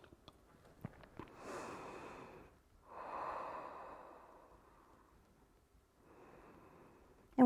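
Slow, steady breaths during a yoga flow, a long airy inhale then a longer exhale and a third breath after a pause, close and soft, preceded by a few faint taps.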